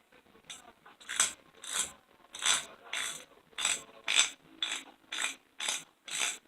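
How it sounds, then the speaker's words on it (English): Freshly greased Craftsman hand ratchet clicking in short rhythmic bursts, about a dozen quick ratcheting strokes, close and fairly quiet with no talking. "Now let's see if the sound changed any."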